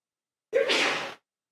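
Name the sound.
sneeze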